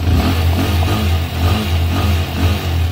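A Suzuki TMX125 Alpha motorcycle converted to a 200cc engine revs steadily and loudly up close, its throbbing mid-pitched drone holding for about three seconds without pause.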